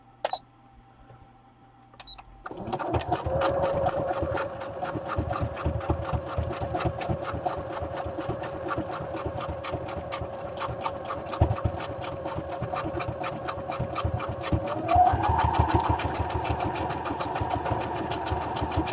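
A sewing machine stitching a scrolly decorative stitch, starting after a couple of quiet seconds with a few clicks, then a steady, fast, rhythmic mechanical whir at close range that continues to the end.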